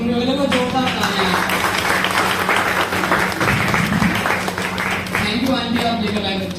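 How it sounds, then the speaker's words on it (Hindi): An audience applauds loudly and steadily for a husband and daughter who have recited poems, the dense clapping running throughout while voices talk over it. "मैं चाहता हूँ दोनों की सुनने वाले को जोरदार तालियां।"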